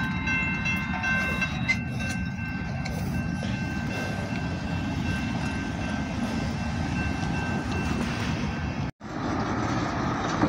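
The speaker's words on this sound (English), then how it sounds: "this train just came around this building right over here and back there" A train rolling past on curving track beside a building, a steady rumbling passage with faint high squealing tones from the wheels on the curve, moderately close and continuous.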